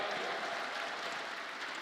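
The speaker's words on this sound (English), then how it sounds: "Let's give them a round of applause." Faint, distant applause from a crowd at an esports event for Dota 2, a short, even wash of clapping with no voices over it.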